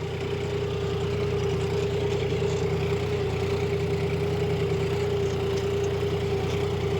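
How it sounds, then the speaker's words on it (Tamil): A John Deere 5050 D 4x4 tractor engine, pulling a nine-tine plough, drones steadily at a constant idle-like pitch, close by and unbroken, with no speech. "இப்போ இன்ஜின் சவுண்டு கொஞ்சம் கம்மியாக இருக்குது"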